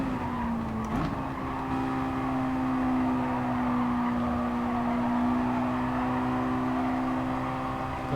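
Race cars in Gran Turismo Sport drag down the straight toward turn 1 in a Nations Cup race, a loud, continuous engine whine holding a steady pitch after a quick shift early on.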